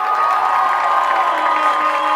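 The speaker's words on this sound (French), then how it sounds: "Alors sortie sous vos applaudissements." A stadium crowd cheers and applauds during a player substitution at a women's rugby championship final, a dense, steady wash of clapping and shouts held at constant loudness throughout.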